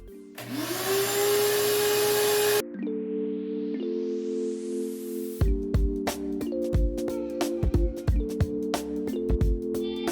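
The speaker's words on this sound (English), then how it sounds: "Now I'm just going to vacuum it out" A vacuum cleaner roars on loudly, then runs more quietly with repeated sucking clicks and rattles as debris is pulled in while cleaning out the interior of a 1992-95 Honda Civic.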